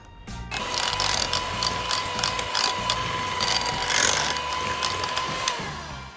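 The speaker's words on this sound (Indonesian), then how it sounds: "masukkan butter, margarin, dan gula halus. Kocok hingga tercampur rata." An electric hand mixer beats butter, margarine and powdered sugar for pineapple tart dough, giving a steady close whirring drone with a rattling, ratchet-like texture that runs continuously without talk.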